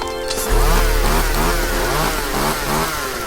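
A chainsaw in the Minecraft Orespawn mod starts up and revs hard, a loud buzzing engine sound that rises and falls in pitch in repeated surges.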